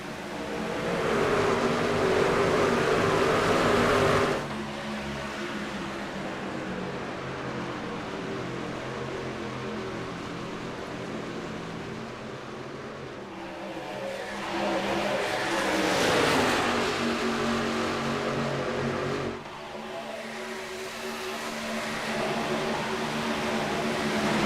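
Some forty trucks racing in a Las Vegas charity truck race, a loud continuous roar of engines that swells and fades as the pack passes, with revving surges and no talk.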